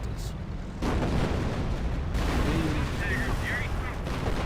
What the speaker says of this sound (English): the short barrel Panzer 4 is just getting shelled really badly from the creeping barrage